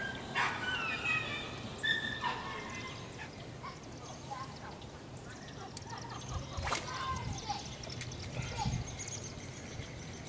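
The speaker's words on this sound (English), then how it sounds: "Oh, this is a dog, folks." A dog outdoors on a fishing outing makes a series of yips, whimpers and short barks, moderately close, mixed with other background sounds.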